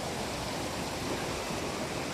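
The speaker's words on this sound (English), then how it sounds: "All this is hot water running through the ground." Hot spring water runs out of the ground beside the Wallibou River on St. Vincent, making a steady, even rushing hiss with no breaks and no voices.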